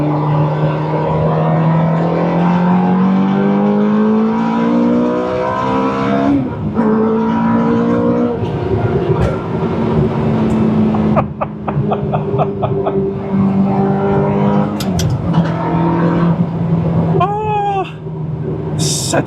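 A Ferrari F430 engine, being worked on for a thermostat fault code P0128, revs hard up close, its pitch climbing and falling through several loud blips over a steady idle.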